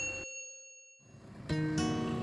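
A bright notification-bell ding rings out with a sustained shimmering tone, then after a short silence further chime strikes follow, clean and electronic, with no speech.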